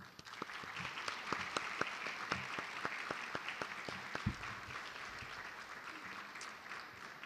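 Audience applause at a student lecture event, a dense steady patter of many hands clapping throughout, moderately distant and even in level without pauses.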